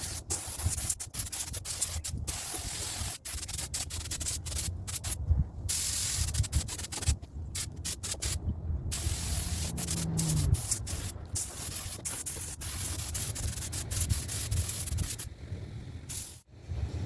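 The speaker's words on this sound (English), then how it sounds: "Around 20 PSI right now on this gun" An Iwata spray gun at around 20 PSI paints a Nissan 350Z spoiler, giving off bursts of sharp, airy hiss broken by brief silences between passes, close and fairly loud.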